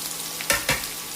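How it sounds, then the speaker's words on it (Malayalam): Ginger, garlic and green chili sauté in a hot pan for a coconut chutney, a soft steady sizzle broken by two quick stirring scrapes close by, with no voices. "ഇതെല്ലാം കൂടി ഒന്ന് ഒത്തിരി അങ്ങ് വഴന്ന് പോകണ്ട, ഈ പച്ചച്ചൊടിയൊന്ന് മാറിക്കിട്ടണം"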